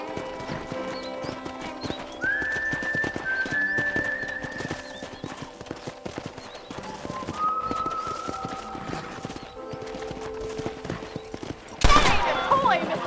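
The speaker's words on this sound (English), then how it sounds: "let's see if you can still ride a horse" Hooves clip-clop steadily from a horse ridden around a ranch in the video game Red Dead Redemption, with a horse whinnying and birds calling now and then, plus a brief loud burst near the end.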